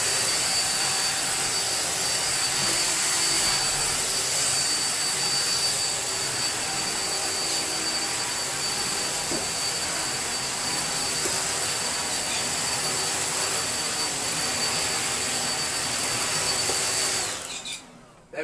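A Bosch Athlet cordless vacuum cleaner runs with a loud, steady high-pitched whine that holds constant for about seventeen seconds before it dies away abruptly.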